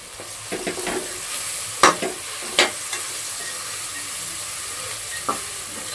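Vangi bath, an eggplant rice made with MTR masala powder, is stirred in a hot pan: a continuous soft sizzle, broken by a few sharp spoon scrapes and clicks against the pan.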